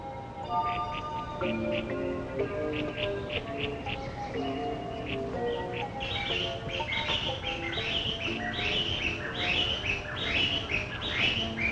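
Formosan blue magpies calling around their nest, a busy series of chirps and whistled notes that grow denser and more rapid in the second half, fairly close, with tonal warbles underneath.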